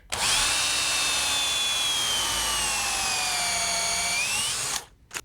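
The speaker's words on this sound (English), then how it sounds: "this is a combination pilot hole drill and countersink." A power drill with a combination pilot-hole and countersink bit whines at high speed for several seconds, pitch drifting as it bores into a wooden stair handrail, then stops abruptly.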